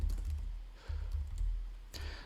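A name being typed on a computer keyboard: a short burst of quick, close key clicks in an uneven rhythm, with a brief pause midway.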